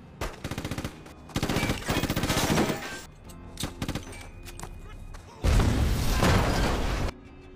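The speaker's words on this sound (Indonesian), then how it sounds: "tiba-tiba polisi datang menyergap, sehingga terjadilah baku tembak." Film shootout between police and criminals: loud rapid machine-gun bursts alternate with short pauses, a few scattered single shots and thuds, then a final long sustained volley.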